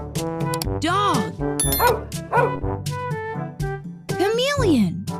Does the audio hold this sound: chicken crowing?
no